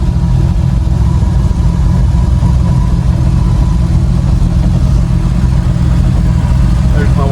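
An old car engine, left sitting in a barn for 46 years, runs continuously at close range with a steady, loud, rough mechanical drone and a few rising revs near the end.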